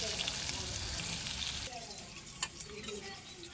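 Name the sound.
fried turmeric-salt vegetable mix sizzling as added to lentil dal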